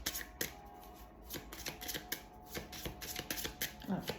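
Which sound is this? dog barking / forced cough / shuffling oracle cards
shuffling oracle cards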